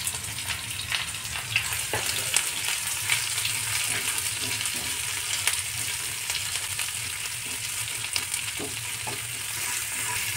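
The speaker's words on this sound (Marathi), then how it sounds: "कांदा आपण छान फ्राय करून घेणार आहोत।" Onion frying in a pan with curry leaves, a loud, constant crackling sizzle with occasional soft scrapes of stirring, steady throughout with no voices.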